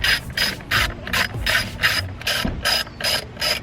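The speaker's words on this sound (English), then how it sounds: "So just go ahead and take off those 4 screws real quick." A ratchet spins T20 screws out of the rear vents on a BMW F10 in short, quick bursts of close, crisp clicking, with brief gaps between strokes.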